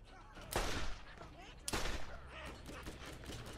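Gunfire in the Borderlands video game, two sharp loud bursts a little over a second apart, each fading into a rumbling tail, with a voice talking underneath.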